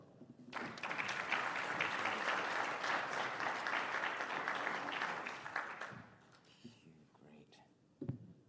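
An audience applauding to welcome speaker Eric Amyot, a dense sustained clapping that swells and then thins out, with a few whispers and stray claps trailing off as it dies down.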